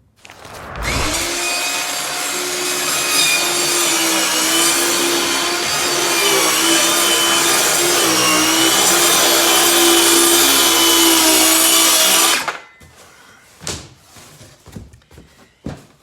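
A circular skill saw runs continuously for about twelve seconds while cutting wood in an old Shasta vintage camper rebuild, a loud steady whine that stops abruptly, followed by faint scattered knocks and handling noises.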